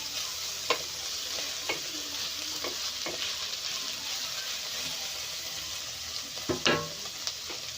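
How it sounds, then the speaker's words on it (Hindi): Cabbage frying on a high flame for noodles, a steady sizzle under repeated spatula scrapes and clicks against the pan, close and alone. "हाई फ्लेम में हमें इसे फ्राई करते जाना है।"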